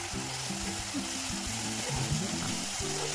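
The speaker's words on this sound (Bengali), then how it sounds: "পেঁয়াজটাকে আমি লাল লাল করে ভেজে নেব।" Onion paste frying in oil, with whole garam masala, dried red chillies and bay leaves, for a prawn malai curry. A steady, close sizzle continues without a break, and a few soft stirring scrapes can be heard underneath.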